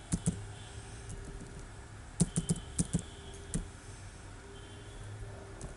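Keys on a computer keyboard tapped in two short clusters, with crisp, close clicks and a quiet room between them.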